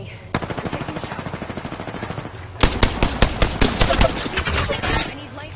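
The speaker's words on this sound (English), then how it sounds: "They spotted me. I'm taking shots." Enemy gunfire in Apex Legends: a fast automatic burst rattles steadily, breaks off briefly, then returns as louder, heavier rapid shots, close and dominant.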